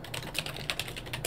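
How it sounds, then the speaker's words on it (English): Keys being typed on a computer keyboard in a quick, irregular run of clicks, close and clear, with no talking over them. "I probably have to type Super Smash Brothers."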